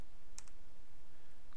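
A computer mouse gives a few quick, faint clicks, two close together and then one more, while ports are selected in a Fortigate firewall interface in an otherwise quiet room.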